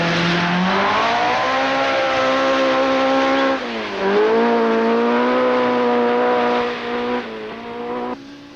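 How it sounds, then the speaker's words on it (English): A 1975 RAC Rally car driven flat out on a forest stage, engine held at high revs with loud, close sustained roaring and brief dips between gear changes, no voices. "Clark, knowing Makinen's problems, puts in a furious last-minute challenge for 1st place"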